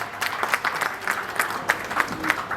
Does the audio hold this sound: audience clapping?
yes